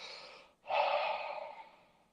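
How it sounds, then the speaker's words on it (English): Slow deep breaths close to the microphone: a soft exhale trails off, then after a short pause a strong airy inhale swells and slowly fades. "4 simple breaths that I breathe for me, I breathe for you, I breathe for us"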